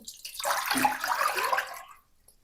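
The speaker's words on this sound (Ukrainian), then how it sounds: "До каструлі вливаю 1 літр води" A steady stream of 1 litre of water pours into a pot for about two seconds, close and fairly loud, then stops.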